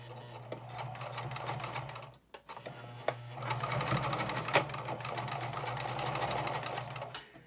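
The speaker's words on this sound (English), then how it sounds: "And you'll continue sewing until you reach the very, very end." A home sewing machine runs a steady, fast stitching drone while sewing a fabric casing, loud and close, with a brief pause near two seconds before it resumes and keeps going to the end.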